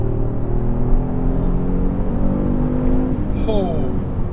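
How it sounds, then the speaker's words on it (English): A 2020 Kia Stinger GTS launching hard under launch control, its engine note droning steadily and close throughout. Near the end a quick rising pitch sweep marks a gear change, while a voice speaks over the engine. "mash the gas, launch control ready. Oh my God, that thing pulls so hard."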